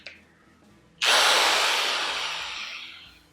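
A drill boring a hole in a workpiece ahead of fitting a galvanised steel wire for a character sculpture armature, starting abruptly after a quiet moment and whirring loud and close, tapering slightly as it bites.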